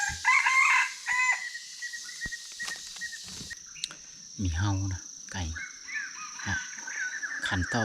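A rooster crows loudly and close at the start, followed by chicken clucks and insect chirps over a rural background, with people talking intermittently.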